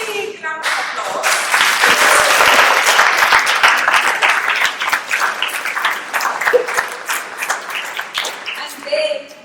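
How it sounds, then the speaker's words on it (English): Audience at a youth conference held at Aston Villa FC in Birmingham applauds loudly and steadily for about nine seconds, with a few voices and whoops mixed into the dense clapping before it thins out. "give them a big round of applause."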